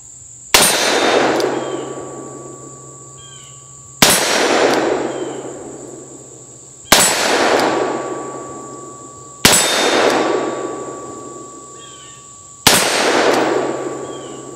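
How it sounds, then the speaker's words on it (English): Five sharp .357 Magnum shots from a Colt Python revolver at an outdoor range, each a loud crack followed by a ringing steel target clang about every three seconds, with insects chirping faintly between shots. "we've got the Python loaded up with 325 grain, 357 magnums. So let's put a smack on him."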